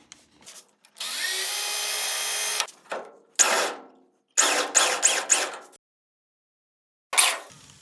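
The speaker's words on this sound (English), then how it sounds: "I'm just going to drill that hole out a little bit deeper" Power drill boring out spot welds in the steel body of a 1973-79 Ford F-100 pickup during a bed conversion: one long steady whine, then several short loud bursts of drilling with pauses between, close up and no talk.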